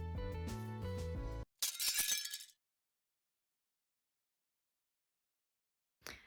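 A tempered glass PC case panel knocks at one corner and shatters, a sudden bright crash of breaking glass with a short spray of tinkling fragments after it. Music plays just before the break, and a few quiet seconds follow.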